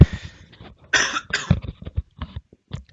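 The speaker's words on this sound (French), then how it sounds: "faut juste que je tousse un peu là, excusez-moi" A person coughs several times in short, harsh bursts close to the mic, with brief pauses and a throat-clearing rasp between them.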